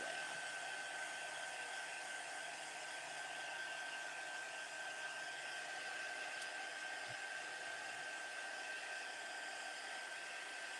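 Continuous steady whir of a heat gun drying distress ink on adding machine tape, even and unbroken from start to finish, with a faint high whine over it.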